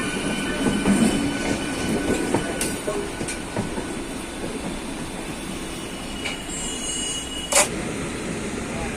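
A Doon Express passenger train pulls into Howrah station, with steady rumbling rail noise, faint clatter and a brief sharp squeal near the end, while people talk faintly in the background.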